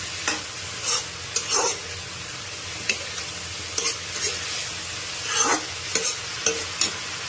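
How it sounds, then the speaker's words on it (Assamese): Salted greens sizzle steadily in a hot pan while a utensil stirs and scrapes at irregular intervals, close by, with no voices. "নিমখ দিয়াৰ পিছত আকৌ মই ভালকৈ ভাজি লওঁ।"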